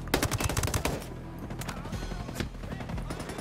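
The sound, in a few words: gunfire in the video game Ghost Recon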